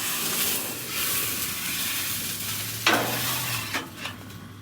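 Breakfast frying on a Blackstone griddle at a camping site in a New York state park, a close continuous sizzle with occasional scraping stirs and a faint low hum beneath.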